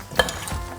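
Salad being tossed with olive oil in a bowl, a short, near stirring and mixing sound with one sharper clink-like scrape among soft wet rustles, no voices.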